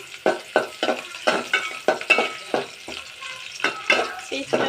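Vegetables frying in a pan for a rohu fish curry, close rhythmic scraping strokes of a spatula over a light sizzle, repeating about twice a second.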